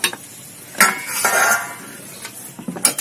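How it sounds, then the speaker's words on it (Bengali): A metal pot lid is lifted and set down during khichuri cooking, giving a few close clinks and scrapes with a short metallic rattle in a kitchen. "ঢাকনা খোলো"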